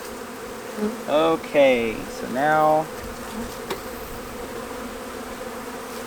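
Forager honey bees buzzing around an open hive during a winter inspection, a steady soft hum under a few brief spoken words.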